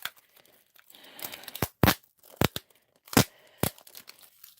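Clear tape is pulled and torn while sealing a storage container, a faint crinkling rustle first, then several short sharp rips close to the mic, spaced irregularly.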